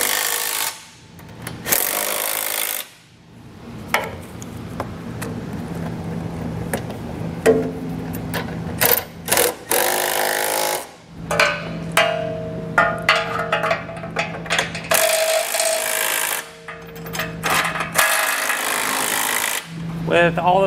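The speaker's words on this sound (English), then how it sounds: "come back with a 7/8 socket and snug it down." A 7/8 socket driving and snugging the bolts and flange nuts of a Draw-Tite Max-Frame trailer hitch receiver on a 2021 Chrysler, loud close bursts of power-tool whirring and rattling broken by short pauses.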